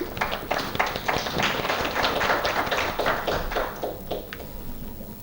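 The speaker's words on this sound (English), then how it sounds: "I would like to invite on the dais key eminent speaker of the session, one Shri Balaji Venkateshwar sir, with a warm round of applause." A seminar audience at a cyber defense session gives scattered applause for an arriving speaker, with uneven taps and claps rising then thinning out, moderately loud and unaccompanied by talk.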